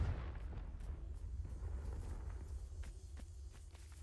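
A Confringo blasting spell goes off in Hogwarts Legacy, a deep, steady rumbling roar that holds loud for several seconds, with sharper crackling bursts near the end.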